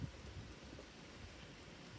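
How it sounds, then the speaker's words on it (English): Steady rain falling during a rain and wind storm, a dense, even wash of noise that holds at a constant low level for the whole stretch with no distinct drops or thunder standing out. "You can probably hear the rain better."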